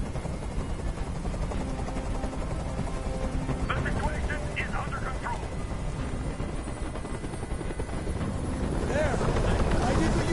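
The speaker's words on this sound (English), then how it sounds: "I can't stand that noise anymore. Tell that helicopter to get out of here." Steady whirring helicopter rotor noise from the video game Detroit: Become Human holds throughout, a constant thrumming drone that swells slightly toward the end.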